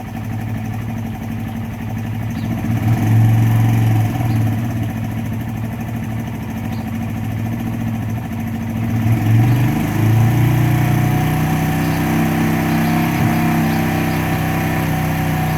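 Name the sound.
motorcycle engine idling after cold start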